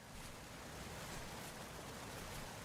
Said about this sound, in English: first I have to find this waterfall I can hear